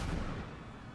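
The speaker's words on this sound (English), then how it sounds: "And he just got bombed." A bomb blast and gunfire from the border-checkpoint game Papers, Please produce a loud, dense rumble that is heaviest at the start and then decays into a sustained low roar.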